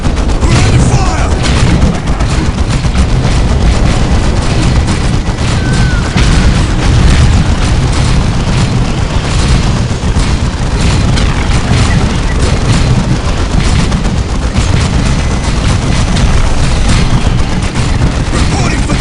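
Artillery fire and explosions rage in a Warhammer 40K Dawn of War Soulstorm battle between Imperial Guard and Sisters of Battle: a dense, constant roar of booms and gunfire with voices faintly mixed in.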